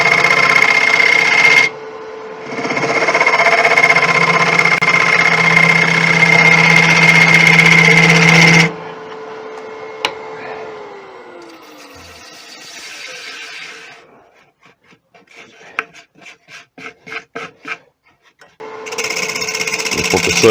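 Wood lathe spinning an Irish beech and bubinga bowl while a scraper cuts it, a steady motor hum with buzzing scraping that stops midway, then quiet knocks and rhythmic taps before the lathe starts up again.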